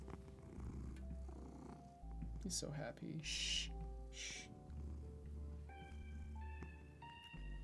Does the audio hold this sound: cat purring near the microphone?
yes